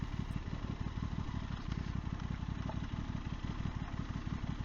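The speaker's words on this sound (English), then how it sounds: "it's nice to be able to stand up on the pegs on a bike with long travel suspension, 21-inch front, and just power on through" A long-travel dual-sport motorcycle with a 21-inch front wheel rides a broken gravel road in rural Thailand. Its engine drones steadily and loudly throughout, with a rapid rhythmic low thrum and faint clatter underneath.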